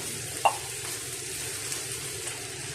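Sardines sautéing in a pan for a patola dish, giving a soft steady sizzle and watery crackle throughout, with one brief clink near the start.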